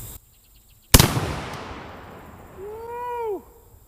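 A JTS M12AK shotgun fires a single loud, close blast of Hornady Varmint Express number 4 buckshot, and the report rings out and slowly decays. A short rising whistle-like tone follows near the end.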